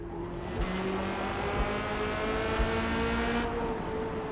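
A Corvette C8.R race car in a racing video game at Hakone GP gives a loud, steady engine drone that rises and falls through gear changes, with faint clicks over it and no talking.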